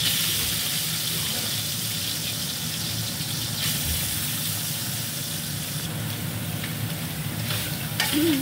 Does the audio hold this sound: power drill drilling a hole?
no